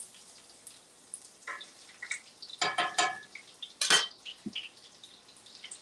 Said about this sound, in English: I'm mixing together a little bit of mayonnaise and a little bit of stone ground mustard